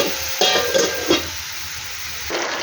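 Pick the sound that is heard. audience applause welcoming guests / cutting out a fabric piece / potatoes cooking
potatoes cooking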